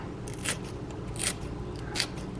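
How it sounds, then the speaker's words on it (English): Scissors snipping through green onions in a home kitchen, three short crisp cuts about a second apart, close and fairly quiet over a low background hum. "I'm just going to take my scissors and chop it up."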